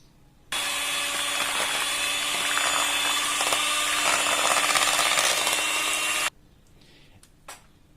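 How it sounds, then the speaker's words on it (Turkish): An electric mixer whirs loudly and steadily at slow speed through cheesecake batter for about six seconds, then stops abruptly, leaving quiet room tone and a faint knock. "yavaş tempoda karıştırmaya devam edeceğiz"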